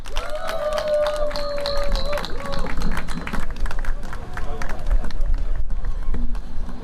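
Loud, dense clapping from a crowd at a joint campaign launch rally for a Gangseo district mayoral candidate, with cheering and amplified voices mixed in throughout.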